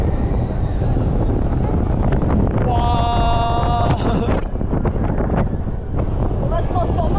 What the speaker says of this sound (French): Il y a du vent par contre en haut.